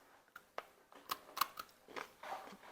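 Crunchy homemade peanut brittle being bitten and chewed, a series of sharp close crunches and cracks in quick irregular succession, no talking.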